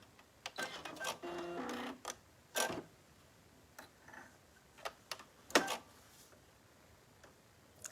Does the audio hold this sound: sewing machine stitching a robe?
yes